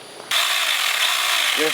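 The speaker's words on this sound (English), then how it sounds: "All you do is hear the chain running around on the bar" A Tingmengte 6 inch mini chainsaw with its chain running around the bar kicks in abruptly and holds a steady high whir, while a brief voice is heard near the end.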